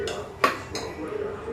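Soybean pulao stirred in a pot, producing a few quick metallic scrapes and one sharper clink of a spoon against the vessel, close by and brief.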